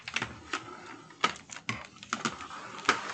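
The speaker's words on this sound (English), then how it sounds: "And then you just fold all the way up and crease." Wrapping paper being folded and creased by hand into a homemade paper bag, giving a series of short crisp crinkles and sharp creasing snaps, fairly close and quiet, with no talking.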